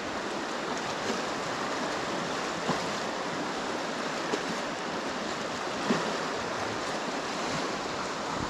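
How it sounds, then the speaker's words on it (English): Fast river water surging steadily against a fallen branch on the River Wansbeck, a loud, continuous broadband rush with small splashy surges and no voices. "You hear the water pushing up against the branch, quite loud."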